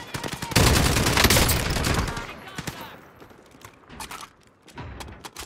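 Light machine gun fire rattles in the video game Call of Duty Warzone as a dense, loud burst of rapid shots, followed by scattered single cracks and a shorter closing burst under faint game ambience.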